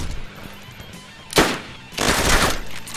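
Automatic gunfire in the DayZ video game, shot from a hacked magazine, comes as a sharp loud burst followed by a longer sustained rattle of rounds at close range.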